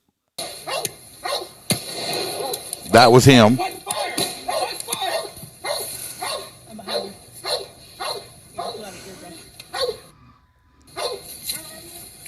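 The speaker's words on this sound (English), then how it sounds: "That's got to be a police K9." An angry police K9 dog barks repeatedly in a fast, rhythmic series of loud barks, with one especially harsh burst early on, while someone speaks briefly.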